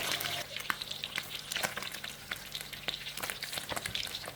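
Fresh gutted mackerel from Trang deep-frying in a wok of oil: a dense, steady crackling sizzle full of rapid bursting pops, loud and close, with no talk.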